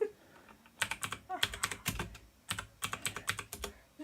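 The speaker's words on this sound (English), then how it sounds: "He's typing again." Bursts of rapid typing on a computer keyboard, clustered keystrokes in quick runs with short pauses between, close and fairly quiet.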